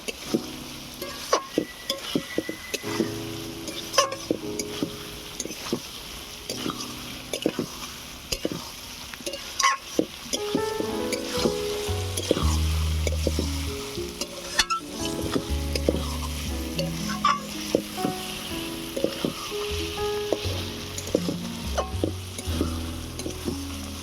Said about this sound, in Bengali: সয়াবিনটাকে এবারে ভালো করে কষিয়ে নেব